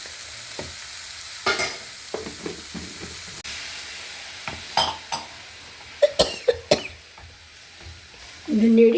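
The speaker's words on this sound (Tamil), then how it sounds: "இந்த நெடி ரொம்ப அடிக்கிறது தான் இருமல் வருது" A few sharp coughs from pungent cooking fumes break through the hiss and sizzle of kothu parotta frying, with a spoon stirring now and then and a louder scrape near the end.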